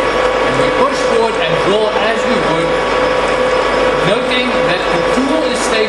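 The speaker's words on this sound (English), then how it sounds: "We start up the lathe." A lathe in a heavy machine training lab starts up and runs, giving a loud, steady mechanical whir with ratcheting, gear-like clatter throughout, close by and continuous.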